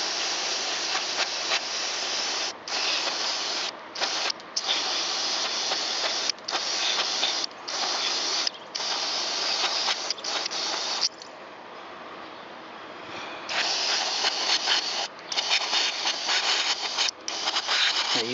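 Aerosol cleaner sprays steadily from a can onto a mass airflow sensor, a loud continuous hiss broken by brief pauses, with one longer softer stretch midway.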